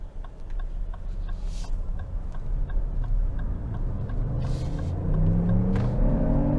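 A 2023 Lexus RX 500h F-Sport Performance hybrid with a turbocharged engine pulls away from a stop, its low rumbling engine note rising in pitch as it accelerates, with a light ticking from inside the cabin.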